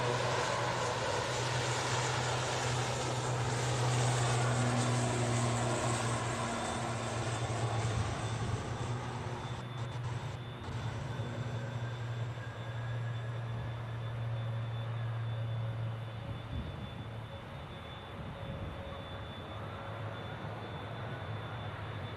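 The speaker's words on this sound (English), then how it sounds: "the Air Transat's a long-range fitted A321neo" An Air Transat long-range Airbus A321neo at Manchester Airport sends out a sustained engine drone with a strong low hum, loud at first and easing slightly later, heard alone with no voices.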